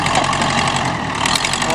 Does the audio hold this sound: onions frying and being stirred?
no